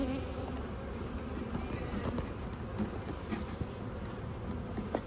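Honeybees buzz around an open backyard beehive during a hive inspection, giving a faint steady drone with small rustles and knocks close by.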